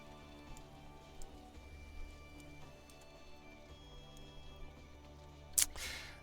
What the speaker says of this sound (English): Man, it's rainy everywhere today.